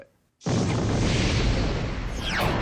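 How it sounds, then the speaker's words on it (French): A large staged explosion for a television science show: after a brief silence, a sudden loud broadband blast erupts and keeps roaring at a steady high level for about two seconds without fading. "On va faire 2 explosions."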